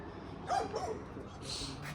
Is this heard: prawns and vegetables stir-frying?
no